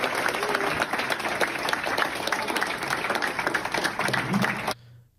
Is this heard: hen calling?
no